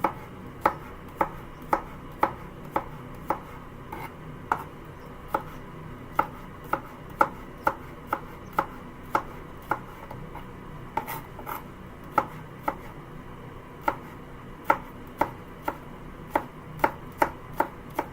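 A knife chops vegetables on a cutting board for a coconut curried chickpea dish, giving crisp, close, steady knocks in quick, even bursts with brief pauses between runs.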